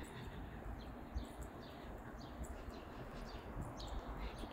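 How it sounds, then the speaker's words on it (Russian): Faint birdsong on a city street in Riga, with scattered chirps and short tweets above a steady low hum of urban background noise. "Птички поют."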